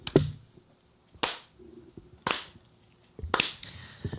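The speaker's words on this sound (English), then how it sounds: "Clap slowly." Four sharp, widely spaced hand claps, about one per second, land one after another in an otherwise quiet room, each a crisp isolated smack with a short tail.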